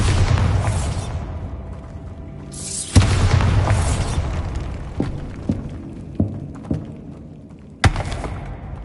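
Bombarda spell explosions in the Hogwarts Legacy video game: two big booming blasts with long rumbling tails, followed by several smaller thumps and pops and one more sharp burst, loud and close.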